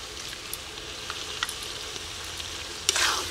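Spice paste with turmeric, salt and a little water sizzles steadily in a pan while it is fried down for a rooster curry at a village cooking setup. A few soft stirring scrapes sound, with a louder scrape near the end.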